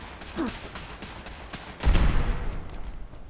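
Fallout 4 gunfire: faint cracks and mechanical clicks early on, then a heavy, booming blast with a deep rumble that lingers and fades with a noisy tail.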